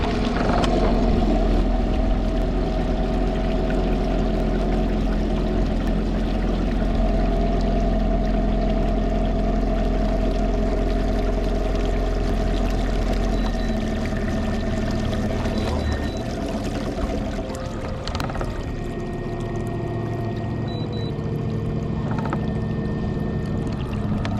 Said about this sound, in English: it's very noisy. Noisiest trolling motor that I've ever heard